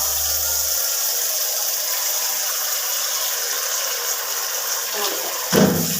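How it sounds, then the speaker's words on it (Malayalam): Tap water runs steadily and loudly over vegetables being washed in a sink, a continuous close hiss with a brief splash near the end. "എടുത്ത് വെച്ചിരിക്കുന്ന പച്ചക്കറികളൊക്കെ ഒന്ന് കഴുകി കൊടുക്കാം"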